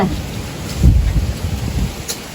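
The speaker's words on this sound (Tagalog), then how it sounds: "ang ulan" Steady rain falls throughout, a continuous broadband hiss with low rumbling wind or thunder-like swells in the middle, heard close and fairly loud.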